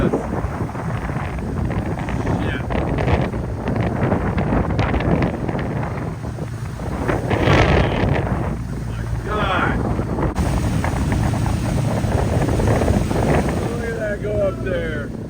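Strong wind buffeting the microphone on an Independence sportfishing boat in windy, rainy weather off Southern California, a steady loud roar with rushing gusts and water noise throughout, a voice speaking briefly over it.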